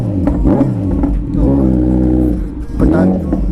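A Wolf G900 motorcycle engine revs loudly through a deep exhaust, rising and falling in long swells with a brief dip near the middle; the rumble is close and strong, with a voice talking over it in places.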